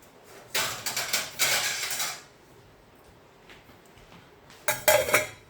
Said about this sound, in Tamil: இப்போ நம்ம இதை ஒரு லிட் போட்டு க்ளோஸ் பண்ணிடலாம்.